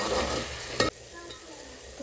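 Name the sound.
stirring and frying tomatoes, ginger and peas for baingan bharta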